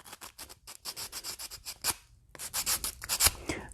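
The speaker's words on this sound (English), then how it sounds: "especially with 80 grit sandpaper" Edges of Captain Rex Phase 2 armor being sanded flat with 80 grit sandpaper, heard as quick rhythmic back-and-forth rasping strokes up close, with a brief pause midway before the strokes resume.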